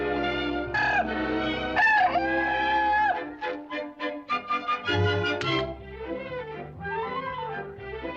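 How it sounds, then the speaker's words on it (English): A rooster crows loudly and close in a farmyard, long drawn-out calls followed by clucking and squawking over orchestral music. "Rufus, the terrible-tempered rooster."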